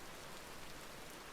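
Steady rain from the video game Vintage Story, a dense, even hiss of falling drops spread across the whole moment with no voices.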